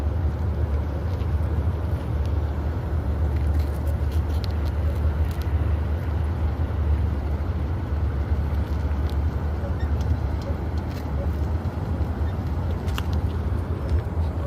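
A car being driven on a lesson round in Kuwait, a steady low engine and road rumble with continuous cabin noise throughout, close and fairly loud with no clear breaks.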